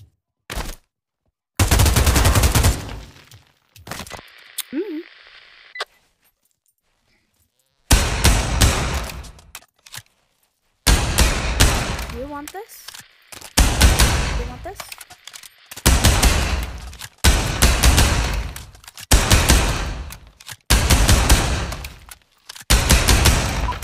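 Bursts of video-game gunfire in a Backrooms game, loud close volleys and rapid fire separated by short silent gaps, repeating through the clip.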